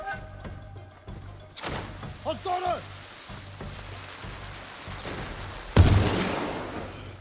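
Firecracker bombs thrown by an enemy burst during a samurai action game, two loud cracking blasts with hissing noise, the second sharper and heavier, over a pulsing background rhythm and some rain-like hiss.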